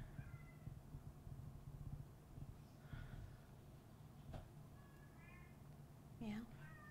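A cat meows faintly several times, scattered across a few seconds, with low talk and background noise throughout.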